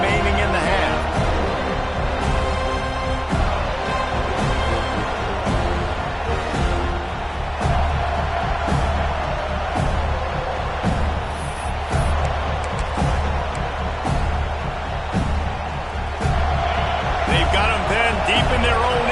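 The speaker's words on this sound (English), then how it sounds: "this crowd trying to help keep them there" Crowd noise at a Florida State versus Texas football game, a constant roar of the stadium crowd rising and holding under a commentator's running play-by-play.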